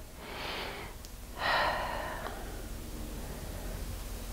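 Two slow, breathy exhalations during a wide-legged yoga pose, soft and close against a steady hiss, with quiet stillness after.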